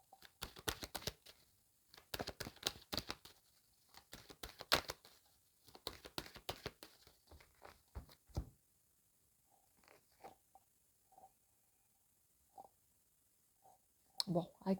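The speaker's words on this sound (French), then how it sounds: "Allez, je rebats." Tarot cards being shuffled during a Valentine's love reading, a quick flurry of dense papery riffling clicks over the first eight seconds, then sparse taps and a short final burst, close and fairly quiet.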